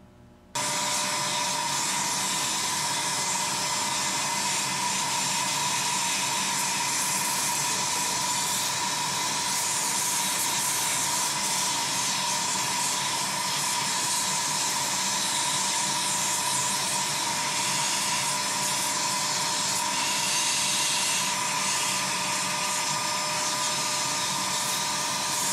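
A shop vacuum roars steadily and loudly for the whole stretch, sucking up dirt inside a 1997 BMW E36 M3, a constant hissing whine with no pauses or talk.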